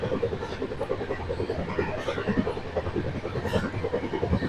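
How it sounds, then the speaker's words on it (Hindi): The Ala Hazrat Express, train 14312 from Bhuj to Ahmedabad, heard from on board at full speed: a steady rumbling roar with rhythmic wheel clatter over rail joints, continuous and close, no talk. "बहुत सुंदर है, पूरे रफ्तार में हमारी ट्रेन है।"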